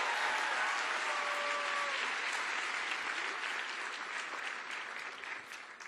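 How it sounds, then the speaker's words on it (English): Audience at a national pro-life summit gives a round of applause, a full steady roar of many clapping hands that slowly eases off toward the end. "Everyone give Will a round of applause."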